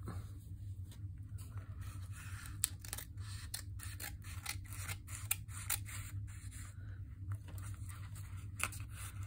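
Scissors trim paper for a vintage-style journal: a string of crisp snips and cuts at an uneven pace, close and fairly quiet over a low background hum, with no talking.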